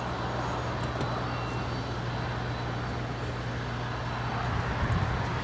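A jet airliner landing at Los Angeles International Airport gives a steady, fairly distant engine roar with a low hum as it brakes hard at the end of the runway, heard alone.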